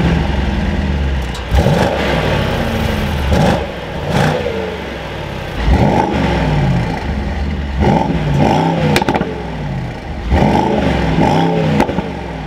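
A Mercedes-AMG SL 63 roadster engine fires up and is revved repeatedly, sharp loud blips rising and falling over a rumbling idle, heard close with no talking.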